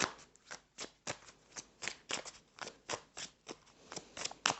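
Cards are riffled and shuffled in a quick, regular rhythm of crisp rustling bursts, close up with no talking.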